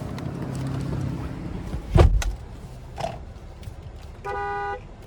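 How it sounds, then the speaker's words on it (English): Car horn of a 2025 Mercedes-Benz GLS 450 Exclusive, a single steady blare of about half a second heard from inside the cabin, after a few faint clicks and interior rustles. "There's the horn."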